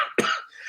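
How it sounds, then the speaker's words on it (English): A single sharp cough, close and fairly loud, followed by a brief rough throat sound. "Sorry, this cough, I don't know what to do other than to don't talk."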